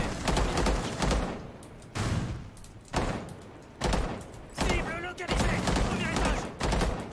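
Bursts of gunfire from the video game Rainbow Six Siege, several loud clustered volleys separated by short pauses.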